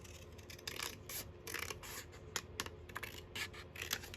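Scissors snipping through paper while making circle pockets in a craft session, a run of short crisp cuts in bursts, close and fairly quiet with no talk.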